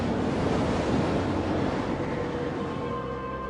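Storm-force wind roars and heavy waves crash continuously at sea in Bass Strait during the 1998 Sydney Hobart Yacht Race, a dense, loud, close wash of surf and wind noise with no voices.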